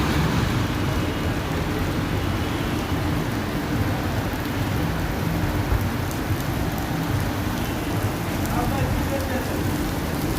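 Heavy night rain falls in Madinah as a dense, constant roar of downpour, broad and steady, with scattered drops spattering on nearby surfaces.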